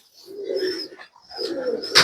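Teddy pigeons coo nearby in two low, throaty rolling phrases separated by a short pause, close and clear, with a brief bright click at the end.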